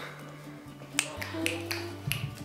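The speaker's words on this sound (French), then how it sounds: "Tes tics, c'est de claquer des doigts?" Several sharp finger snaps click in an irregular rhythm over a faint low hum, fairly quiet and close.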